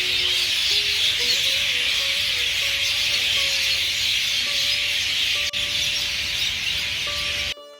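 Flocks of birds calling at dusk near a lake in Rajgir, a dense, continuous high chorus of chirps and shrill calls at moderate distance, steady from start to finish with no talking.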